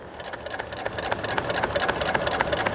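Sewing machine stitching car sun visor upholstery in a fast, steady run of needle clatter that grows slightly louder, with no voices.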